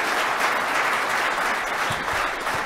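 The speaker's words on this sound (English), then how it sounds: "Feel free to clap willingly at any time you feel like it." A crowd at a high school athlete of the year awards ceremony breaks into sustained applause, a thick, continuous wash of many hands clapping at close, even loudness throughout.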